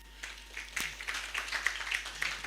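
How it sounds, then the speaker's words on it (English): Audience applause at a human resources conference for the two event hosts, a light, scattered round of clapping, fairly faint, with a brief thump near the start. "Please let's give both Xenia and Pamela a round of applause."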